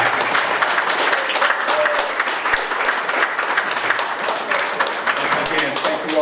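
Audience at a golf course and conference center ribbon cutting gives a steady round of applause, dense clapping throughout with some voices mixed in.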